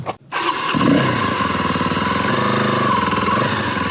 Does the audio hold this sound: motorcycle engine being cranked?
yes